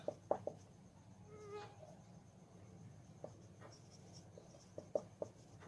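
Pen or chalk writing on a board during a Class 8 mensuration maths lesson, a few short scratchy strokes spaced out over quiet room noise, with no talking.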